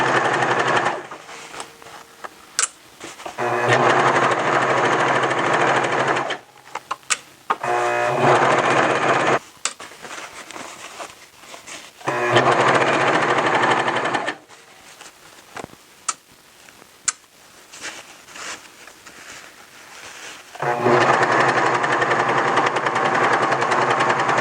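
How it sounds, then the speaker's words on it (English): Serger sewing a T-shirt side seam from the bottom hem up to the sleeve end, loud rapid stitching in several sustained runs separated by short quiet gaps and small clicks. "we're going to start at the bottom hem of the shirt and sew up to the end of the sleeve"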